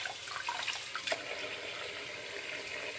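Tap water runs steadily into a sink while hands are washed to get oil-based pomade off, a soft continuous splashing stream with small splatter bursts, fairly quiet and close, no talking.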